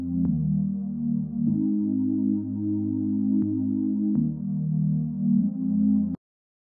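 Smooth synth pad from a Serum patch built on sine and triangle waves, holding sustained chords that shift every second or so, steady and moderately loud until it stops cleanly near the end, with no talking.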